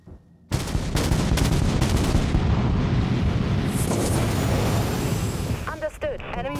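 Weapons fire and torpedo launches during a space battle in the game Dreadnought: a loud, dense barrage of booming blasts rolls on continuously, with brief voice-like tones near the end.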